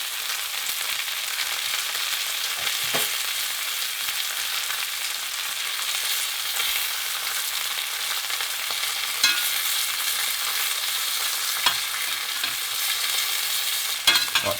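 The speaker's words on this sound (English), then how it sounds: "Going to add that butter in." Garlic butter melts and sizzles in a hot pan beside a steak being basted, a steady bright frying hiss throughout with occasional soft clicks and spatters, close and continuous, no voices.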